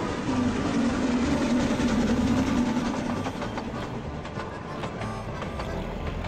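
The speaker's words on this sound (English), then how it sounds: "il y a un train qui passe" A train rumbles past in The Night of the Rabbit adventure game, a loud continuous roll with rhythmic clickety-clack of wheels that eases off slightly toward the end.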